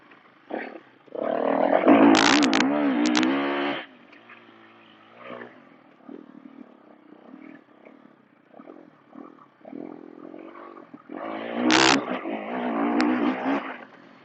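A KTM 350 EXC-F dirt bike on tight trails, its engine revving hard in two loud bursts with a quieter, uneven throttle stretch between them, heard close and without talk.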